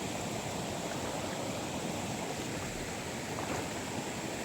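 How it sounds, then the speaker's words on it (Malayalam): Small waterfalls and stream water flowing, a steady, soft, broadband rush of water that stays even throughout, with no voices or other sounds on top. "പോണ വഴിയിൽ ഇടയ്ക്ക് നല്ല വെള്ളച്ചാട്ടങ്ങൾ ചെറുത് ചെറുത് കാണും"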